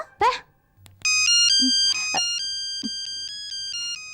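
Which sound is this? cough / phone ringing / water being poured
phone ringing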